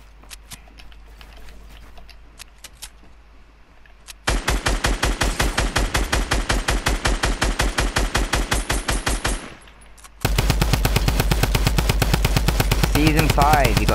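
A drum gun fires in Fortnite: two long, rapid automatic bursts of loud gunfire, the second heavier, preceded by a few scattered quieter shots.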